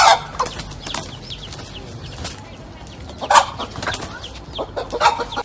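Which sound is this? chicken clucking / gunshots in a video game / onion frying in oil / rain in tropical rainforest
chicken clucking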